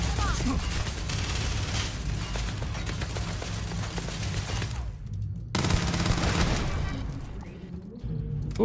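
Automated turret gunfire in the space game Starfield, a steady stream of loud rapid shots that cuts out briefly and resumes with heavier booms, with game noise around it.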